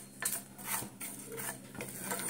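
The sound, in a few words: dry roasting cumin, fennel and dried chillies in a pan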